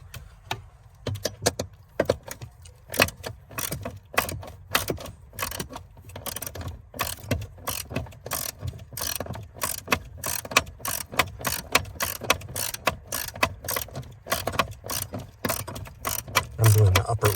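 Ratchet tightening nuts on a 2015-2018 Subaru Outback 2.5i during a remote start install, rapid repeated clicking strokes in steady bursts, close up with faint mechanical clinks and no talk.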